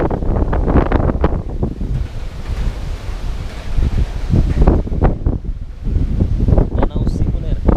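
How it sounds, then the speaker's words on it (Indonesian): Strong, gusty wind roars across the microphone at Bukit Sekunir lake in Dieng, loud and continuous, with a voice talking underneath the buffeting. "Anginnya masih saja kencang"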